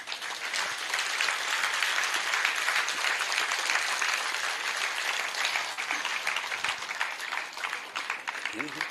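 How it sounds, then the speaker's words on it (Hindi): Dense, loud applause from a seated audience at a talk on the five elements and three doshas, a continuous wash of many hands clapping at once with no pauses. "एक बार जोरदार तालियां बजा सकते हैं?"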